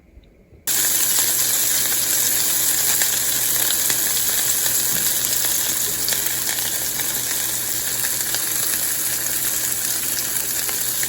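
Breaded veal liver pieces frying in olive oil in a pan give a loud, steady, crackling sizzle that starts abruptly and holds evenly, close up with no talking.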